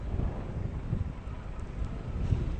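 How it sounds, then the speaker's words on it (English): Wind gusts roar steadily across an outdoor microphone on a bright day in Dublin, a continuous low buffeting with no voices. "It is a bit windy"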